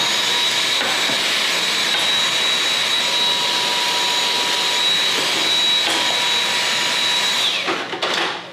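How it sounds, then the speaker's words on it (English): Handheld vacuum cleaner sucking up coffee chaff around a Hottop home roaster, a loud, steady close-up whine with a thin high tone that holds for several seconds and then cuts off near the end. "And I actually have a handy vacuum that I'm gonna go get so I can clean this up."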